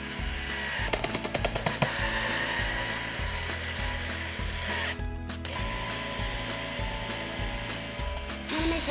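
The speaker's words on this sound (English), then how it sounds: "I'm just gonna take my screwdriver and I'm gonna just drill it in." A screwdriver ratchets steadily as a screw is driven into wood, a continuous mechanical clicking with a few louder clacks near the start.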